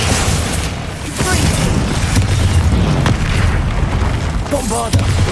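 A Glacius spell is cast in Hogwarts Legacy amid combat: heavy booming impacts and bursts pile up in a loud, busy mix with shouted incantations over the top.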